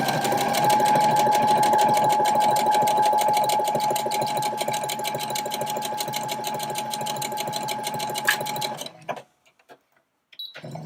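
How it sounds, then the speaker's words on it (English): A sewing machine runs steadily for about nine seconds, stitching a seam in stretch fabric with contrasting thread, with a fast even mechanical whir and rattle, then stops and falls near silent with a few faint handling sounds. "I'm just going to sew my first seam."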